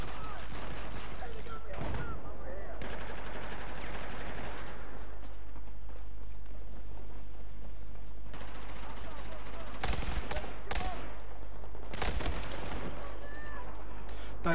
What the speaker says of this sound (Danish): Der er godt nok mange, der går rundt med sådan våben med mange skud i